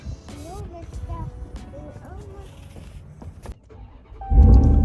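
A truck engine cranks and catches near the end, settling into a loud running rumble after a stretch of quiet talking inside the cab.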